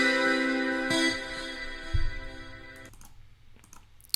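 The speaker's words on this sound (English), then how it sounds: "and I have this guitar selected, the distortion hybrid." A distorted hybrid guitar from an FL Studio stock plugin plays a sustained, harmonically rich chord that fades out, followed by a low thump and a few scattered clicks near the end.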